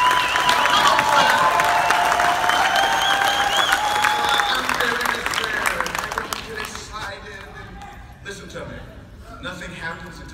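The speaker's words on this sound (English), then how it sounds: "give the staff and everybody that volunteers at ANMP a tremendous round of applause" A large convention crowd applauds and cheers loudly, a dense wash of clapping with a voice calling over it, then the applause gradually fades out over roughly ten seconds.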